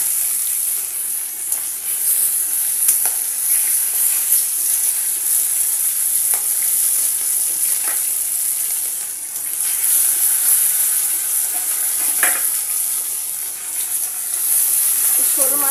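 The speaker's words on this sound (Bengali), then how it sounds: "এবার বাকি মাছগুলো আমি ভেজে নেব।" Snakehead fish frying in hot oil, a steady bright sizzle and crackle throughout with a few sharper pops and spatters, close and fairly loud, no talking.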